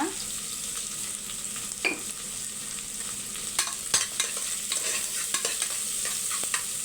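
Onions and tomatoes sauté in a pan, a continuous soft sizzle broken by scattered scraping clicks from stirring, close and moderately quiet, with no speech.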